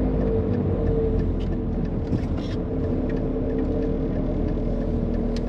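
Interior drone of a 1998 Renault Mégane Coupé 1.9 DTI diesel, a loud constant rumble and hum heard from inside the car, steady throughout with no talk over it.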